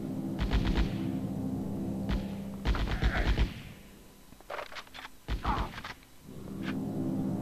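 Gunfire in the video game Die Hard: Vendetta, with bursts of rapid shots and heavy thuds in clusters separated by short pauses.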